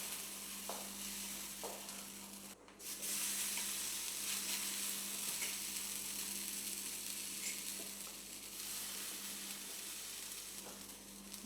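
Gluten-free corn fritter batter frying in oil in a pan, a steady close sizzle running throughout with a brief louder burst early on and a low hum beneath.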